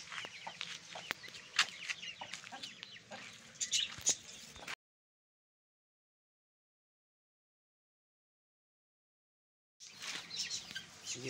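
A hen clucking softly and repeatedly while feeding her chicks, close and quiet, in two bursts separated by a stretch of silence.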